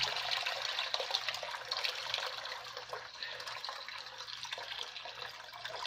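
Water from a Media Cube dehumidifier's bucket, a little over a gallon, is dumped out in one steady, continuous gush of splashing and trickling that lasts throughout, close and fairly loud.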